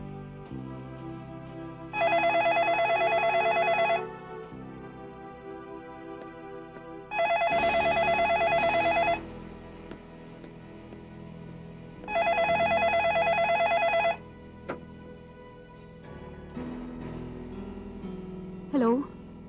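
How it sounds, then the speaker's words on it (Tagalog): Telephone ringing in three evenly spaced electronic trills, each lasting about two seconds with pauses between, over a quiet indoor background, and a faint voice toward the end. "Hindi mo ba sasagutin ng telepono?"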